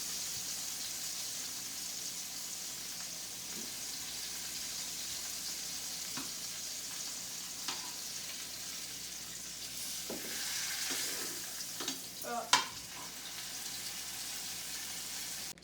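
Beef sears in a hot pan for Beef Wellington, giving a steady close sizzle with soft spits and occasional utensil clicks near the end, and no talk.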